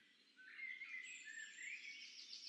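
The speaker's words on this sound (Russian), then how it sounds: "Были слышны лишь шелест листьев и далекий птичий гвалт" Birds call faintly among maple trees in a quiet outdoor setting, a brief burst of high chirps and tweets rising after a moment of near silence.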